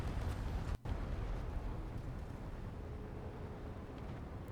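Explosions in the space-combat video game Space Engineers, heard as a dense, continuous roaring rumble that fills the whole stretch, broken only by a very brief dip near the start.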